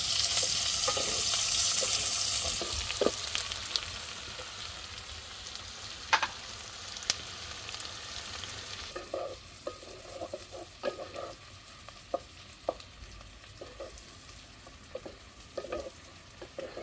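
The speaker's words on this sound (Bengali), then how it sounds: "কুচানো পেঁয়াজ দিয়ে দিব।" Chopped onions fry in a pan in a village kitchen, a continuous hissing sizzle with scattered clicks and scrapes of stirring, close by and moderately quiet.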